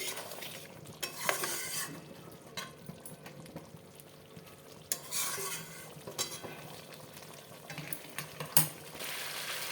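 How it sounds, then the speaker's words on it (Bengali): Mutton bhuna is stir-fried dry with a fried spice mix in a kadai, giving a soft steady sizzle under repeated scraping strokes of a spatula, close and fairly quiet, with no talking. "মশলাটা দিয়ে আমি ভালো করে কষাবো, পুরো ড্রাই করে দেবো একদম।"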